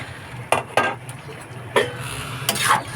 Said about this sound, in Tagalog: lalagay na natin yung pinaprito nating toho o tokwa